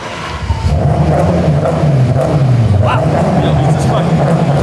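A 1000-horsepower BMW E30 race car accelerates hard, its engine drone rising and falling steadily over nearly five seconds at close range, with a voice talking over it.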